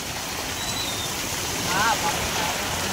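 Heavy monsoon rain pours down in Ongole city as a dense, continuous wash of rushing water fills the air, steady and close, with a faint voice in the background.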